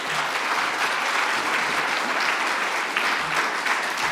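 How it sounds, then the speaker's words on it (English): An audience at a shared care record leadership event applauds its panel, a steady, dense wash of clapping that fills the room evenly for several seconds, with no voices rising above it. "I just want you to give a round of applause for our panel"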